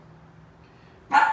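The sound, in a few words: dog barking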